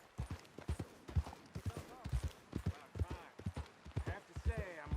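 Horse hooves clip-clop at a steady rhythm in the Wild West game Red Dead Redemption 2, close and fairly loud, running under almost continuous spoken dialogue.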